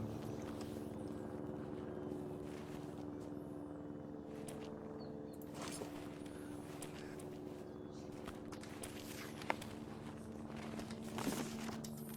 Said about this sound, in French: Hélico de transport déjà.